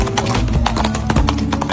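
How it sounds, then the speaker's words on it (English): Horse hooves clip-clop in a quick, uneven rhythm, loud and close as a horse walks with a drunk man riding it. The sound plays back from a video with a slightly compressed, boomy tone. "This is a drunk man on a horse."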